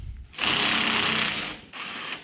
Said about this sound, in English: Next, we're gonna remove this belt guide. Use a 1/2-inch socket.